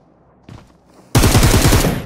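Sustained automatic gunfire in the mobile battle royale Peacekeeper Elite on a desert island map, a brief faint sound followed by a loud, rapid continuous burst of shots close by.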